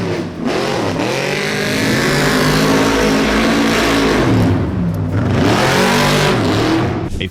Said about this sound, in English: Imagine the sound of a beastly off-road truck roaring through the desert.